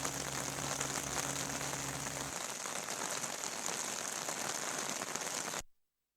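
Steady rain falling in Uttarakhand, a dense even hiss of drops on surfaces with a low hum at the start, close and continuous before cutting off abruptly near the end.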